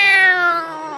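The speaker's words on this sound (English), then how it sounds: "they were greeted by a big and ferocious cat" A big, ferocious cat gives a single loud, close meow with a bright, strongly harmonic tone that slides downward and fades over about a second.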